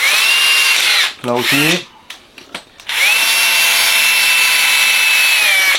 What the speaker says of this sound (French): Donc on perce plus loin là. On perce plus loin ici.